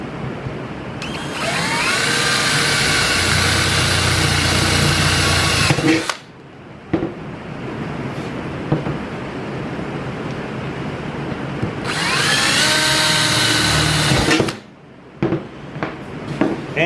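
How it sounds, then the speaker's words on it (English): A power drill boring holes in a metal stove pipe to fit a damper, two loud sustained whining bursts separated by a quieter stretch of handling noise. "we're going to take the drill and we're going to drill our holes in here"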